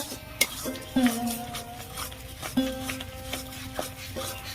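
Mashed broad bean paste being stirred in a pan for sim bata, with close metal scrapes and clinks of a spoon against the pan, some soft bursts of sizzle and quiet talk in the background.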